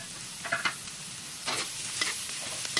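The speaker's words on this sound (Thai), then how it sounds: "เราก็ผัดเข้ากับเนื้อหมูนะครับ" Vegetables stir-fried with pork in a pan: a continuous hiss of sizzling broken by a few scraping stirs of a spatula, close and steady, with no voices.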